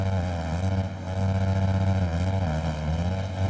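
A Husqvarna 450 supercross motorcycle racing, its engine holding a loud, buzzing note with brief dips and rises in pitch as it shifts and accelerates, close and continuous.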